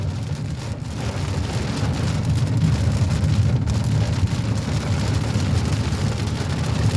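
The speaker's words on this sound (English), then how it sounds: "the rain has picked up very heavy." Heavy thunderstorm rain, a dense steady roar of downpour that stays loud and constant throughout, with a low rumble underneath and no voices.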